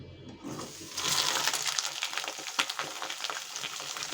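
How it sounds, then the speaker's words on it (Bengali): Eggplant pieces drop into hot mustard oil in a wok and start frying, a close sizzle that surges after a second into a dense crackle with sharp spitting pops. No one speaks. "এখন আমি বেগুনগুলো ঢেলে দেব।"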